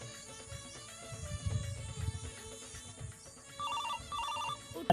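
A phone ringtone plays continuously, a bright repeating melodic ring with a busy rhythm, loud and close, with no talking.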